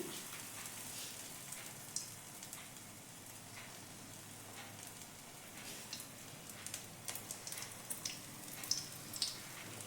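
Prawns coated in gram flour batter fry in smoking-hot oil over a low flame, giving a soft, steady crackling sizzle with scattered faint pops, fairly quiet throughout.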